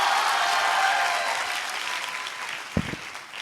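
A large hall audience claps together in a dense, steady burst that gradually fades, ending with a single sharp knock near the close.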